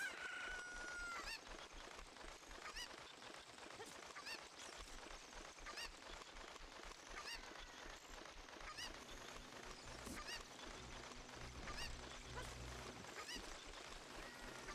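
Chickens cluck and a rooster crows in Zelda Ocarina of Time, steady fowl noises running throughout under background game music.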